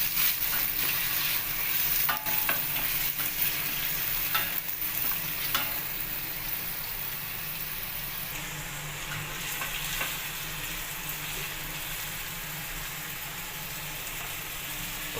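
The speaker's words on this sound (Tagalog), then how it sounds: "Haluin lang natin guys." Ginger, onion and garlic stirred as they fry in a pot for pinapaitan, a steady close sizzle with occasional scraping clicks of the spoon throughout, no voices.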